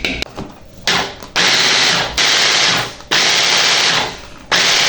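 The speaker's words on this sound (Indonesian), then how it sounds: "Haluskan tahunya beserta bawang putih sampai halus." Tofu and grated garlic are ground until smooth, probably in a blender or chopper, in four loud, steady whirring bursts of about a second each, separated by short pauses.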